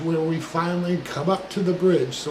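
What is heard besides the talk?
No everyday noise stands out behind the speech.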